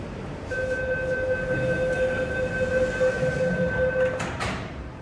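A metro train departs LOHAS Park Station, humming steadily with a sustained two-tone whine, then a burst of higher noise near the end as it pulls away.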